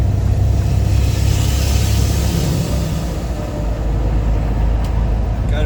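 A truck rolls along a highway toward West Virginia, its steady low engine drone and road rumble holding constant and loud throughout, with no break.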